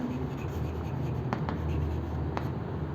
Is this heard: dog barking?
no